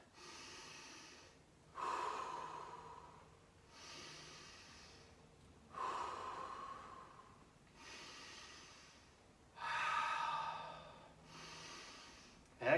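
Slow, deep breath-work breathing during a stretching and light movement session: long airy inhales and exhales alternate in a regular cycle of roughly two-second breaths, close and fairly soft, with no talking.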